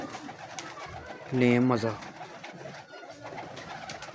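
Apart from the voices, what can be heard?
pigeons cooing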